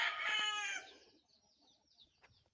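Hens cluck and call near a nest. A loud, drawn-out crowing call comes first, followed by softer scattered clucks and small rustles.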